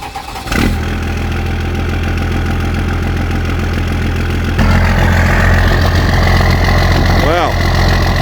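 A car engine cranks and catches, then settles into a loud, steady idle close by while the exhaust blows out water, with a brief rise in pitch near the end.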